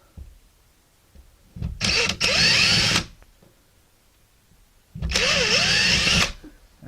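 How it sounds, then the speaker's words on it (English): A power drill boring holes into a wall while wire shelving is installed: two loud, steady bursts of about a second or more each, close up, separated by a quiet pause. "Now you're going to drill those holes."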